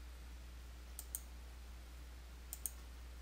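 Two pairs of faint, crisp mouse clicks in quick succession, about a second and a half apart, from a computer operating QuickBooks Desktop Pro 2020 software, against a quiet steady hum.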